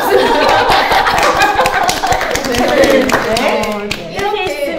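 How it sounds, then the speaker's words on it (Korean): One person claps alone in a quick run of close, sharp hand claps, with people talking and chuckling over it. "혼자 박수."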